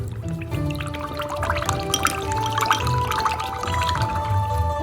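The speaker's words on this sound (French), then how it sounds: "On ajoute donc dans un bol, ajoutez la même quantité d'eau." Water poured into a bowl of oyster sauce, a close, continuous splashing and trickling fill with bright dripping and bubbling throughout, with no talk.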